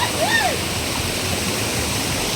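A forest stream with water rushing in a steady, close wash of noise and a few brief high chirps near the start.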